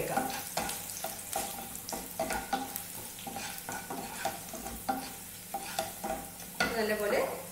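Carrot pieces being stir-fried in a pan for carrot 65, with a steady sizzle cut by repeated rhythmic scrapes and taps of a spatula, close by and without speech.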